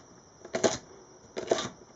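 A knife slicing a carrot into sticks on a cutting board gives two crisp, close chopping crunches about a second apart.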